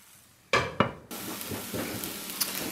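Keto salmon croquettes fry in a pan: a couple of sharp utensil clinks against the pan, then a steady, fairly close sizzle and hiss that carries on to the end.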